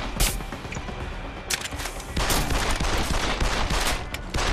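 Rapid gunfire rattles through a Deus Ex: Human Revolution hostage rescue firefight, with loud, dense bursts of shots that surge and overlap, and no voices.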